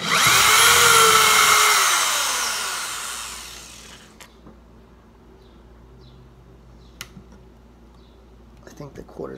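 A power drill with a 15/64 bit bores into a DC-15A blaster rifle prop, whining loudly for about four seconds with a falling pitch as it slows, then quieter handling clicks and taps follow.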